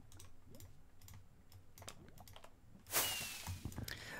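Keys clatter at a quick, irregular pace on a computer keyboard during a Minecraft Bingo session, close and fairly quiet, and a louder burst of noise breaks in near the end.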